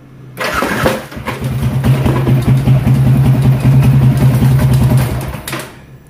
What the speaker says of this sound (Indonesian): Gue pencet start, terus di starter.